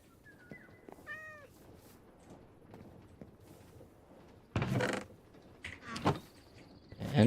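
A cat meowing in the video game Randomonium CC:Endventure, a short rising meow near the start, followed later by loud mechanical creaking and whirring bursts from the game.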